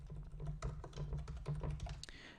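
Quick, close typing on a computer keyboard, a dense run of soft clicky keystrokes over a low steady hum, ending in a slightly louder final tap.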